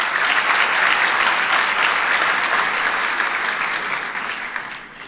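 Sustained audience applause fills a youth summit award ceremony hall, a dense steady wash of many clapping hands at full strength that eases off slightly toward the end.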